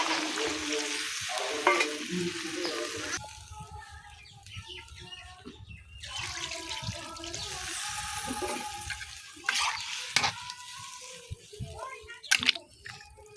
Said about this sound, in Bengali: গাইস দেখতে পাচ্ছেন আমাদের তরকারিটা টকবক টকবক করে ফুটে যাচ্ছে